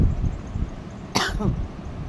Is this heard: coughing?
yes